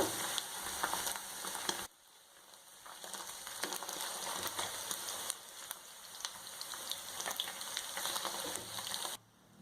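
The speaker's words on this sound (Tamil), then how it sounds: "மீடியம் ஹீட்டில் தான் ஃப்ரை பண்ணணும், இல்லைனா அது சீக்கிரமாக கரிஞ்சிடும்" Food frying in oil in a pan over medium heat during home cooking of mattar paneer, a steady dense crackling sizzle that runs the whole time, briefly dropping in level before resuming, with no talk.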